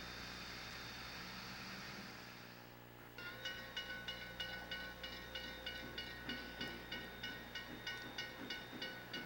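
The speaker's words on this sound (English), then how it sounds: "This is the passenger train coming into Caledonia from Stratford on the way to Fort Erie." A passenger train from Stratford bound for Fort Erie rolls into Caledonia with a faint hiss, then steady rhythmic wheel clicks over rail joints repeat at an even pace, heard from some distance.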